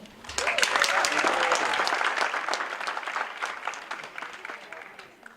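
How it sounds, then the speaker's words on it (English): Audience cheers and applauds for a stand-up comedian at a talent show, a loud, dense burst that starts abruptly and holds steady before easing slightly toward the end, with voices mixed into the crowd noise. "Let's cheer for Ian."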